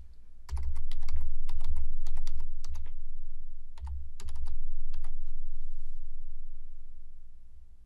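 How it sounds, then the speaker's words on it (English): A MAC address is typed on a computer keyboard in close, crisp clusters of key clicks with short pauses between bursts. "Type the MAC address into the first field, and then either tab to the next field or click into the next field."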